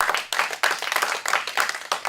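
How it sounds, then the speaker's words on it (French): Church congregation clapping in applause, a dense, steady wash of many hands close by, with no talking over it. "Je veux qu'on acclame le Seigneur pour ces sœurs."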